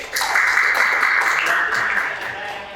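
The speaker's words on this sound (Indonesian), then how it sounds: "beri tepuk tangan untuk Heli" Classmates in a physics lesson give a brief burst of applause for a student named Heli, a close, fairly loud patter of clapping that holds for a couple of seconds, with possible voices mixed in.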